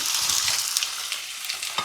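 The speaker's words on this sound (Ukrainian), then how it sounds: "Обов'язково починаємо смажити зі сторони шкірочки." Chicken tabaka laid skin side down in a preheated frying pan, giving a steady, close, broadband sizzle of hot fat with small crackles and pops throughout, no voices.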